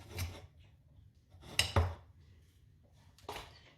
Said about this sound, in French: Je la coupe grossièrement, hein, je la coupe pas mini.